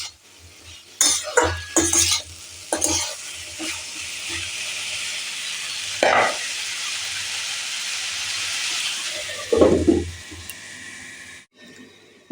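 Banana stem curry is stirred with salt in a pan over a continuous soft steamy hiss. Scattered bursts of spatula scraping and clatter come at a few points, close and moderately loud.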